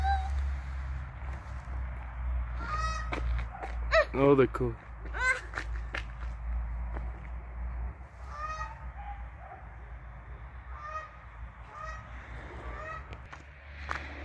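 Ducks and other fowl kept at a house in Italy honk and quack in irregular bursts, fairly near, over a steady low hum while someone talks.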